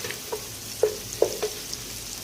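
Chicken cubes frying in masala over a medium flame, giving a low steady sizzle with a few soft scraping taps from stirring, close by and without talk.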